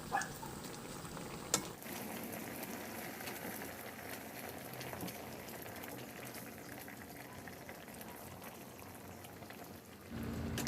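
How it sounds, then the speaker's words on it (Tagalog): Sauce with fried milkfish (bangus) heating to a boil in a pan, a steady close bubbling and simmering texture that runs evenly throughout with a sharp clink near the start. "At antayin na lang kumulo."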